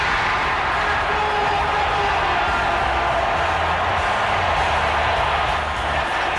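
A basketball arena crowd roars steadily in a 1984 broadcast as fans stand while Kareem gets the ball, a loud sustained wash of cheering with no breaks.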